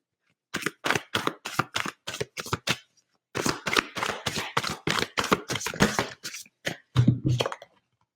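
Tarot cards riffled and shuffled by hand in a long run of quick, crisp bursts, a short pause, then another stretch of rapid flicking, close and fairly loud with no talking.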